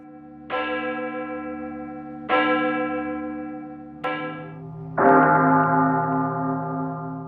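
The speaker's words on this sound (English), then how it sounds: "Two different church bells, a bit reminiscent of Pink Floyd's Division Bell" Two different church bells ring out one after another, each strike leaving a long humming decay; a deeper, fuller-toned bell joins near the end.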